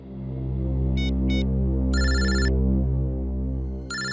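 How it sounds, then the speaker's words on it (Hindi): A telephone rings with a call from the office, giving two short electronic trills, then a longer burst and the start of another, heard over a loud, low droning hum of background music. "ऑफिस से फोन"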